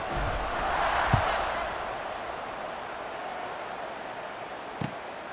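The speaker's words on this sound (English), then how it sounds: "this crowd is buzzing after that last score" Stadium crowd in EA College Football 26 during a South Carolina vs. Tulane game: a steady, moderately loud crowd murmur swells and settles, broken by two brief sharp knocks.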